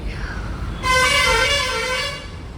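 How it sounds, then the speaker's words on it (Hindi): A truck horn blares once for about a second amid faint road noise and traffic hum. "वेदर के साथ साथ गाड़ी के हॉर्न"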